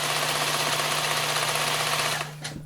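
A sewing machine stitches quilt strips during strip piecing for an ombre panel quilt, running in one steady continuous burst before stopping near the end, close and alone with no talk.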